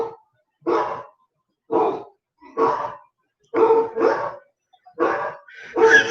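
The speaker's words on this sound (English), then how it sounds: "here's Bark Like a Dog" A smart speaker skill plays recorded dog barks: about eight sharp barks in uneven bursts, some doubled, separated by short silences, clear and alone with no talking.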